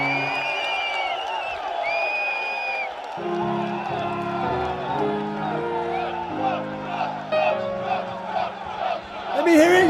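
A street protest rally crowd cheers and jeers at politicians' pictures held up before them, a dense mass of voices rising and swelling, with louder whoops and shouts building toward the end.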